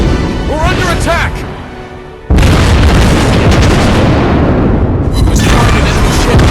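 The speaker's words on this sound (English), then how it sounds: "Destroyed an enemy ship!" Booming explosions from a naval battle in the World of Warships Blitz game as an enemy ship is destroyed, a dense roar that jumps loud and stays sustained, with a voice heard early on.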